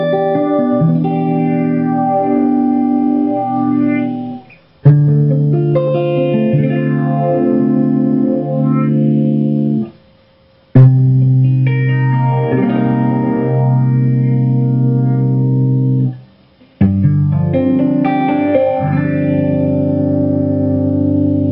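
An electric guitar played through a Maxon Phase Tone PT-909 phaser pedal, sustained chords sweeping in slow repeating whooshing cycles, loud and close, with short gaps between strummed phrases.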